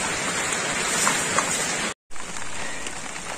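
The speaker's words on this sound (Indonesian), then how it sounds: "Hujan lagi guys. Tadi sempat berhenti sebentar. Sekarang hujan lagi." Steady rain falls outdoors during an all-day downpour on a hunting trip, a dense even hiss of raindrops with a brief dropout midway, fairly loud and continuous with no talking.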